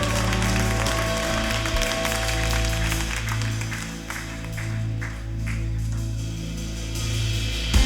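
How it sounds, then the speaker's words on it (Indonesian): At a church worship service, a congregation claps in a steady, sustained round of applause, blended with ongoing music that holds beneath it for the whole stretch. "Kita beri tepuk tangan yang paling meriah begitu."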